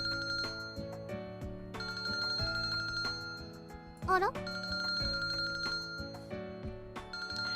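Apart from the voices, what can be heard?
phone ringtone in visual novel game Kinkoi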